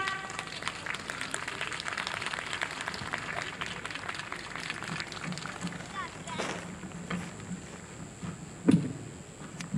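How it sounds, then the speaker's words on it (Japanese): An audience claps for the Fukushima Yae-tai stage performance at the Aizu festival in the rain, with dense, sustained applause that thins out toward the end, followed by a single louder knock. "どうぞ大きな拍手でお迎えください。"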